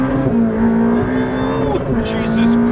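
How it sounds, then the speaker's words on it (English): Ferrari F8 Tributo twin-turbo sports car accelerating hard up a freeway on-ramp, a loud sustained engine roar climbing through the revs inside the cabin, with a voice talking over it. "Spinning up to 80, then 120 within the on-ramp."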